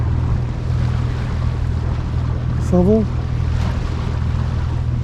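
A boat's motor drones at sea off the Balearic Islands, a steady low hum under wind rushing across the microphone, with someone briefly speaking partway through.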